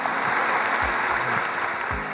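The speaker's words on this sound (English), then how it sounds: "Yeah, you can clap for that." A crowd applauding, dense steady clapping throughout with a few low thumps underneath.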